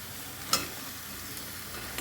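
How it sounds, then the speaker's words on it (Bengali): Eggplant pieces tipped into hot oily tomato-onion masala for an egg and brinjal curry, a soft steady sizzle with one sharp clatter as they hit the pan. "এবার এখানে আমি দিয়ে দেবো বেগুনটা"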